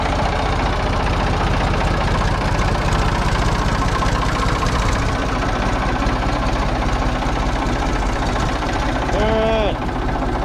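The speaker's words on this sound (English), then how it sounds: "Little old tractor runs like a top," A Ford 3600 tractor engine idles steadily at close range, a continuous low rumble with a rhythmic knock running through the whole stretch, and a brief squeaky sound near the end.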